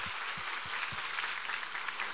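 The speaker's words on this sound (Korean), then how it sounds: "우리 하나님께 감사와 영광의 박수 올려드리겠습니다" A church congregation at a Sunday worship service applauds, a steady wash of many clapping hands, fairly faint and distant, with a few low thumps near the start.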